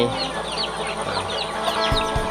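Backyard chickens on a rural Thai smallholding cluck in a steady stream of short, close calls, with a few louder thumps near the end.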